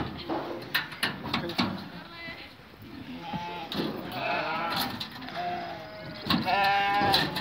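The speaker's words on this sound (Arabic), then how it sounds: "عندهم خرفان صغار" Sheep and small lambs bleat repeatedly in a rural mountain setting, several overlapping calls near and mid-distance, with rustling and handling noises and occasional voices in between.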